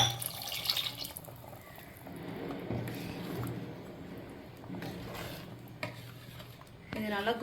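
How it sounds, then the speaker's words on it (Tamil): Water being poured into a pot of mutton curry with ground masala, a faint, steady splashing and trickling that runs the whole time, with a small clatter near the end. "இப்போ நமக்கு இதில் தேவையான அளவுக்கு தண்ணி ஊற்றிப்போம்."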